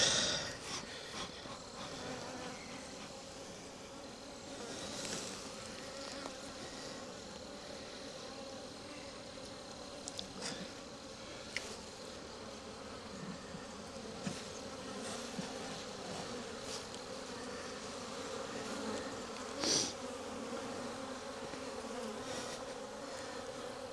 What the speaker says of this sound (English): there are a bunch of bees in there.